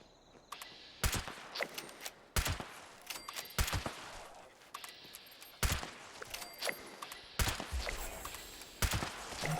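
Gunfire from a weapon in the video game Fallout 76 comes as loud single shots and short bursts at irregular intervals, each with a sharp crack and brief echo, alone without speech.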